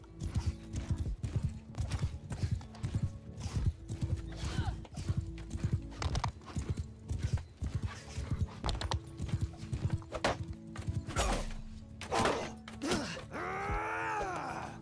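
Rapid, dense hoofbeats clatter from several galloping horses in the video game Mount & Blade II: Bannerlord, with whinnies and groaning cries over a busy battle-like mix that swells and ends in a rising tone.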